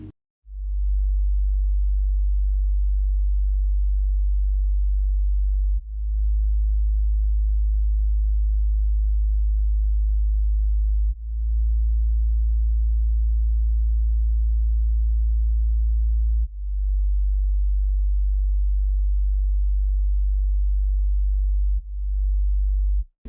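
Deep synthesized sub-bass notes from a 3X Osc synth, four long sustained tones in a row, each starting abruptly, pure and low with nothing else playing.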